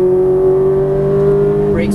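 A Ferrari F430 engine on a race track holds a steady, loud drone under throttle, its pitch nearly constant before a brief shift near the end, with a voice faintly present underneath.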